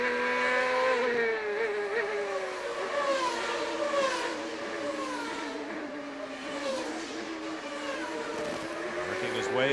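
A CART race car at speed on the Vancouver street circuit, its high engine note rising and falling through gear changes, loud and continuous, with a faint voice underneath.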